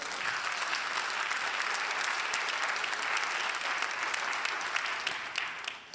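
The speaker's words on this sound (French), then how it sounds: "Donnez une main d'applaudissement au Seigneur." A church congregation applauds in a continuous, thick wash of clapping that stays even and sustained throughout, trailing off only at the very end.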